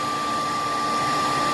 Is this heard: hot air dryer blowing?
yes